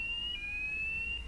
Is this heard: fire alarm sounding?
yes